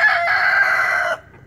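A rooster crows in a chicken pen, a single loud close cock-a-doodle-doo lasting about a second before cutting off to near silence.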